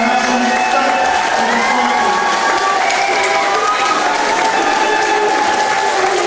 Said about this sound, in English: As a crowd salute both men